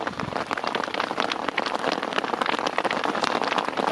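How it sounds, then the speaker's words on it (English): Dense hail drumming steadily on surfaces outdoors beside a spring carp fishing lake, a close, continuous patter that is fairly loud and carries no voices. "Hailstones."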